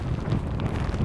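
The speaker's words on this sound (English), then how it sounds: "a wet, hailstorm, windy affair" Steady gusting wind buffets the microphone during a wet hailstorm on an exposed walk, a dense low rumble that stays loud and continuous throughout.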